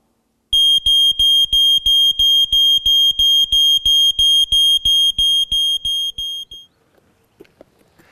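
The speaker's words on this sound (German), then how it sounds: "This is a smoke alarm." A smoke alarm sounds a rapid run of about twenty loud, sharp, evenly spaced electronic beeps, each with a low thump, which then cut off and leave near silence.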